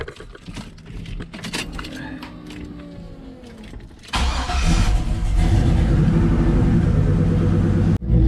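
A truck engine cranks and catches about halfway through, then settles into a loud, steady idle; quieter rustling and faint sounds come before it.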